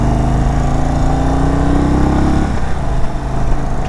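Indian Chief Bobber Dark Horse (2022) with its low-revving Thunderstroke engine heard while riding, a loud continuous deep engine drone that shifts pitch midway, with wind rush throughout.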